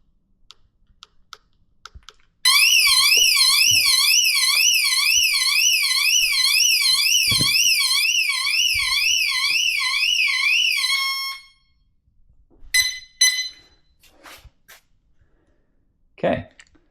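An Aprilia Tuareg 660's factory security alarm wails in a fast, loud warbling siren for about nine seconds, then cuts off, followed by a few short chirps and handling noises.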